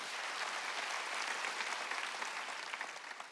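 Church congregation applauding during a Korean sermon at a Jesus-centered church, a dense steady burst of clapping from many hands that fills the room for the whole moment without talk.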